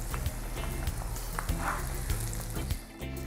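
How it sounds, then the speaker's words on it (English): Onions fry in a pan for spaghetti jollof, giving a continuous crackling sizzle with soft rhythmic knocks throughout. "So we allow that to fry, and then we continue just for the onion to be slightly translucent"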